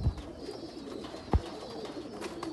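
A Rampuri pigeon coos softly in a pigeon loft in Faisalabad, a few low murmuring calls and a brief thump, close and quiet.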